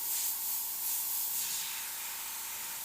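Airbrush spraying makeup highlight under the eye, a soft continuous hiss of air that swells and eases in short pulses, close and fairly quiet, with no talk.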